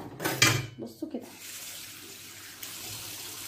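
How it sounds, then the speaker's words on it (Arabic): Tap water splashes briefly over chicken pieces in a bowl in a home kitchen, a short burst of gushing and clattering, followed by a quieter, steady trickle. "وهفتح عليه حبة مية يدوبك يغطيها"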